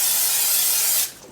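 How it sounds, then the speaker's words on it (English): Cooking spray hisses into a crock pot in one loud, close, continuous burst of about a second that cuts off sharply, with no voices. "I'm going to use my crock pot. I'm going to spray it out first"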